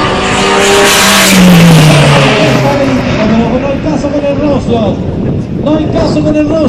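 Drag race cars, a turbocharged Integra against a rotary-engined rival, launch side by side on a quarter-mile strip: loud engine roar with rising pitch sweeps and wind buffeting, crowd and commentary talk mixed in.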